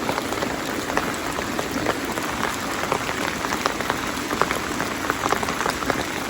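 Heavy rain from a storm in South Carolina falls steadily, with dense patter and scattered drops striking nearby surfaces in an even, continuous wash.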